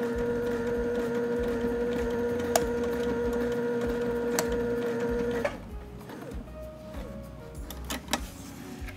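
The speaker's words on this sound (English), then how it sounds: "we're gonna sew along that fold." Sewing machine stitching along a folded fabric edge while making a drawstring, a steady close mechanical hum and rapid needle clatter running for about five seconds, then stopping, leaving scattered light handling noises.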